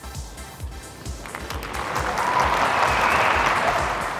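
A crowd in the Antwerp Sport Palace breaks into applause at a WTA tennis match, rising from scattered claps into a loud, sustained wave of clapping and cheering.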